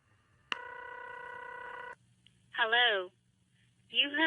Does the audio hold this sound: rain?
no